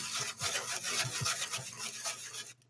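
An object being sanded by hand, a rhythmic rasping scrape with short strokes repeating close up, fairly quiet and with no voice over it, stopping at the end.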